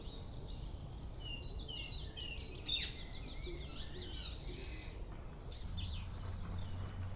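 A pair of tits call back and forth during a dawn chorus walk, with bright high chirps and short trills at moderate distance over a faint outdoor hush, some calls overlapping.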